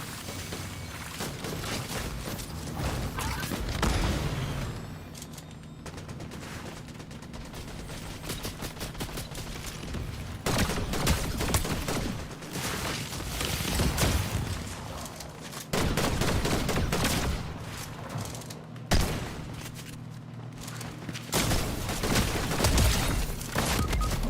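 Rapid bursts of gunfire from a Fortnite fight against two players, repeated volleys and single shots loud and close, running almost continuously with short gaps.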